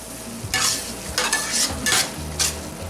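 Shrimp masala spices, mint, cumin powder and Kashmiri chili, stirred and fried in a pan, with bursts of sizzling scraping as the spoon moves over a low background rumble.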